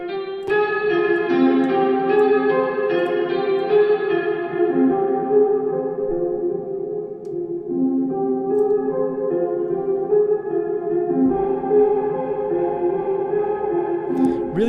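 A trap drum kit playing through a low-pass filter, reverb and tape saturation gives a dark, muffled loop of tonal hits and sustained tones with a long echoing tail, continuous and full throughout, with no voice over it.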